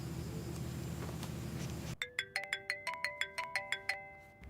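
Phone ringtone chiming in a quick series of bright, evenly spaced electronic notes, clear and close, following a brief stretch of muffled room noise.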